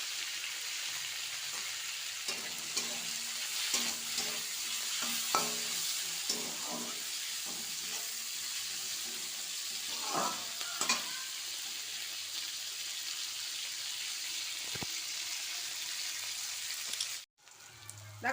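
A vegetable sizzles steadily in a pan after a pinch of turmeric goes in, with soft scraping stirs and clinks, then a sharp knock near the end.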